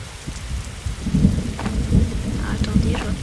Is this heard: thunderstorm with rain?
yes